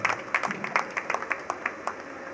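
Audience at a bhajan gathering at a dham applauds, a steady ripple of many hands clapping with sharp individual claps popping out, moderately loud and continuous.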